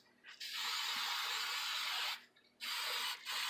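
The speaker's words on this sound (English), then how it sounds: "I'm going to spray it on the side." Two long bursts of aerosol hairspray hissing steadily, close up, sprayed onto a cheer bow to stiffen it, with a short pause between them and a brief final spritz.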